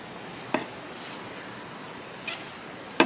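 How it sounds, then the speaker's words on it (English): A resin crochet hook working acrylic yarn gives a few faint, brief scraping squeaks at irregular intervals, close by and quiet, with no talking. "Ooh, I got a squeaky hook, guys."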